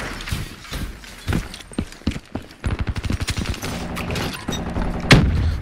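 Gunfire in Call of Duty: Black Ops 3 multiplayer, with sharp single shots and rapid bursts scattered across the moment, some rattling automatic fire and a loud close shot near the end.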